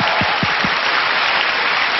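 Studio audience applause on a Korean TV music talk show, a steady dense wash of clapping filling the whole stretch at even loudness, with a few low thumps near the start.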